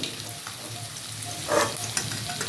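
Koi fish frying in oil, a steady close sizzle with a few scraping stirs and a brief louder spatter partway through, no speech.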